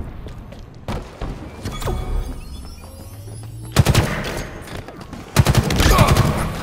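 Gunfire in the multiplayer shooter Halo Infinite: sharp bursts of rapid shots around the middle and end, mixed with thuds and game effects, close and loud with a voice talking at times.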